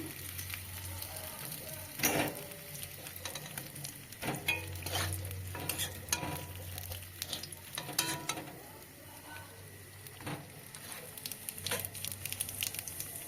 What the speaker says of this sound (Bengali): এখানে আমি জিরে তেজপাতা ফোড়ন দিচ্ছি